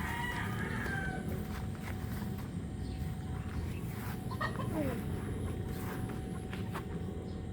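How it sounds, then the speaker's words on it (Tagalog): Chickens cluck and a rooster crows at a moderate distance over a low, steady background hum, with faint voices in between. "Yung mga manok, ayun na sila kumakain."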